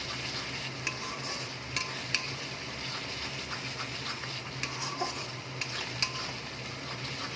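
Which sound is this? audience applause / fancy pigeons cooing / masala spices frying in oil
masala spices frying in oil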